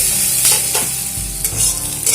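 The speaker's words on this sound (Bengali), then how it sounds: "এবার আলুটাকে একটু ভেজে নেব" Potatoes fry loudly in a pan for a mourala fish chorchori, with a dense, close sizzle broken by several spatula scrapes and stirs.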